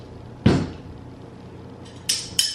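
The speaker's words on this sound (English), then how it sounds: "wrap the canvas around the back and put one staple in" A staple gun fires canvas onto a wooden stretcher bar, giving one sharp thump followed by two quicker, brighter snaps close by, with no talking.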